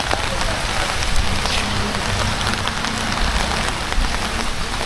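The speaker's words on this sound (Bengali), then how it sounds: "এখানে প্রচণ্ড পরিমাণ বৃষ্টি।" Heavy rain pours steadily on surfaces beside a tamarind tree in Tentulia, Panchagarh, a dense, continuous hiss of drops with constant loudness and no pauses.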